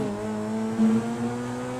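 A game car in GTA V revs through its gears without a double clutch, giving a steady engine drone with a brief stutter as it shifts from second to third near 60 mph, close and alone.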